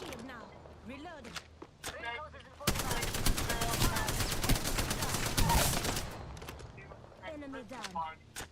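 Rapid bursts of automatic gunfire rattle in a video game shooter, a dense volley of several seconds set between quieter stretches where voices chatter and game sounds chirp.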